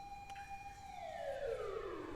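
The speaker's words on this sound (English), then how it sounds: "There were sirens sounding down the street." A siren sounds down a street, one drawn-out wail that falls in pitch as it passes, fairly faint and alone.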